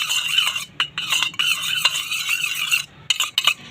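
A spoon stirs a lemon juice mixture in a small bowl, producing close, rapid scraping and clinking strokes in quick irregular bursts with short pauses between them.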